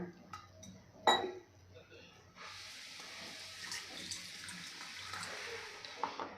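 After a few clinks of dishes, a cup of water pours steadily onto semolina and yogurt in a mixer jar, a soft continuous splashing with faint background voices.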